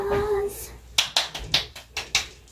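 A handful of sharp hand claps at home during a family board game, about six distinct loud claps in an uneven rhythm, preceded by a brief voice.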